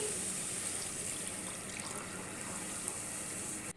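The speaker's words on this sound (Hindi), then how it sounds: "और इसके अंदर 1 लीटर पानी डाल दूंगी।" Water pours steadily into a pot of chickpeas, about one litre, a continuous gushing splash at close range that stops abruptly at the end.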